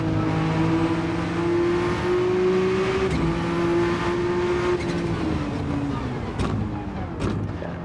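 Race car engines drone and whine in the Grand Touring 900 video game at the Nurburgring, one steady engine tone climbing and falling through gear changes over constant rumbling car noise, with a couple of sharp bangs near the end.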